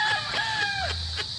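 A gamecock rooster at a game farm gives a short, bright crowing call with a falling pitch, near and fairly loud over a low steady background hum.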